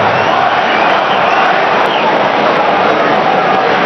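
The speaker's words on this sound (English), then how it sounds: "Crowd are booing Siraj now" Cricket crowd at an India versus Australia Test match booing bowler Siraj, a dense, loud wash of voices sustained for about four seconds with no break.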